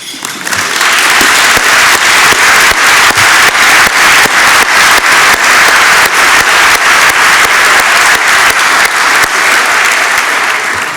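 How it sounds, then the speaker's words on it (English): At an annual meeting an audience applauds board members for their service. The clapping is loud and close and holds for over ten seconds, with a sharp rhythmic crackle running through it. "Please join me in a round of applause for all their service."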